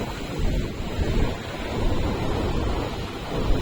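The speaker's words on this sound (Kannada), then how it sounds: "ಕ್ಯಾಂಡಲಿನ್ ಬೀಚ್, ಗೋವಾ. ನೋಡಿ ನೀರು ಇಷ್ಟು ಇಲ್ಲಿ ತನಕ ಬರ್ತಾ ಇದೆ." Surf washes steadily onto Candolim Beach in Goa at night, a continuous rolling rush of waves mixed with wind buffeting the microphone.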